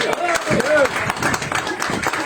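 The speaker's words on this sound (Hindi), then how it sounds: "एक बार जोरदार तालियां सर के लिए" An audience at a business motivational seminar claps loudly for an honored guest, bursts of close hand claps under an excited speaking voice.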